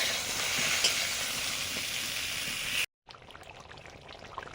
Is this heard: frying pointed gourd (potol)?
yes